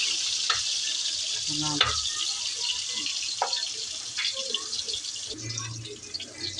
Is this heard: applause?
no